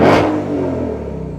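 A 2020 Shelby GT500 in track mode with its 2.65-liter supercharger lets out one sharp, loud rev that flares at the start and then decays into a deep, burbling rumble, heard up close.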